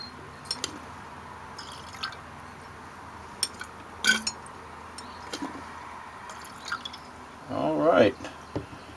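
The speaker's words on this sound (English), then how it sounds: "And we are still pouring out gold." Gold-bearing liquid from refining mixed computer scrap poured out of a bottle, scattered drips and small splashes followed by a short gurgling pour near the end, with a voice speaking between the sounds.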